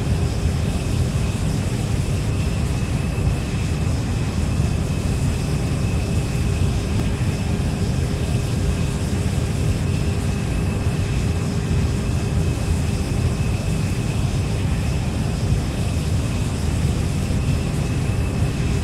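Airplane taking off in an Android flight simulator game: a steady, loud engine roar with constant tonal hum, continuous throughout without pauses.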